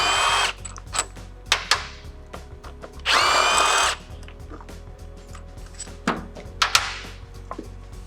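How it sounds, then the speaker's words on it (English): A power tool driving out Torx bolts on the front end of an RX6 sport touring motorcycle, several short loud whirring bursts, one longer run, with clanks and handling noises between them. "I'm going to use the 50 Torx bit. Get those out."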